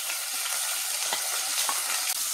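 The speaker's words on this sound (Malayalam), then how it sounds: "എണ്ണയൊന്ന് ചൂടാകുമ്പോൾ അതിലോട്ട് ഇഞ്ചിയും വെളുത്തുള്ളി ഇട്ട് കൊടുക്കാം." Ginger and garlic frying in hot oil in a pan, with a continuous close sizzle and fine crackling hiss and small pops throughout, no voices.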